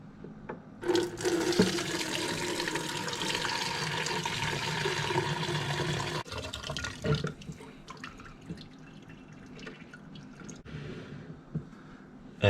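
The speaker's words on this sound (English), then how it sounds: "I'm just going to decant it into this vessel and strain out that fruit." Buddha's hand-infused vodka poured from a jar into a vessel through a strainer, holding the fruit back, with a steady rushing stream for about six seconds, then softer drips and trickles.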